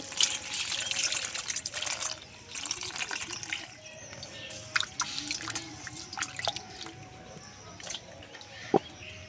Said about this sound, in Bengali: তালটাকে একটু ধুয়ে নেব